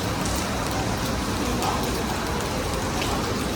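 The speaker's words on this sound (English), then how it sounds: "So crazy rains today." Heavy rain pours down in a city in Thailand, a dense, loud, unbroken roar of drops hitting surfaces with no talking over it.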